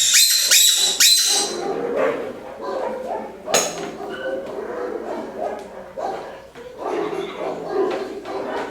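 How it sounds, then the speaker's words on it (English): A squeaky dog toy squeaks sharply in a quick burst near the start while three dogs react with excited barks and whimpers, and a person talks over the scene. "Watch what happens when I squeak."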